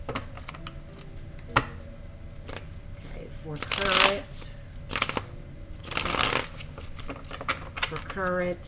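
Tarot cards are shuffled for a reading, giving soft riffling flutters and quick papery snaps up close, broken by a few louder riffle bursts, with a voice speaking faintly underneath.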